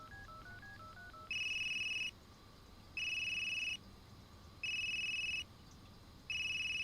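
A found phone in a crime-investigation video game rings with a looping electronic ringtone: short rising dial tones, then four evenly spaced steady electronic rings with pauses between, clear and alone against a faint hum.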